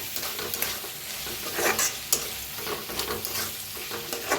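Masala and red chilli powder roasting in hot oil for a bean vegetable dish, a continuous loud sizzle with busy stirring scrapes close by and no voices.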